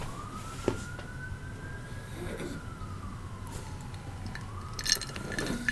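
An emergency siren wails in a slow rising and falling sweep, moderately distant, passing outside over faint background noise and a few light clinks.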